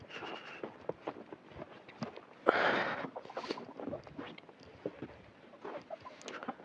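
Hens cluck and chatter in short, scattered bursts close by on a frosty day, with a brief louder rustle or flurry partway through; an outdoor, busy coop feel.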